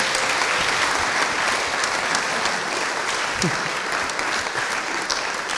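Loud, steady applause from a crowd, with many hands clapping continuously and no pause.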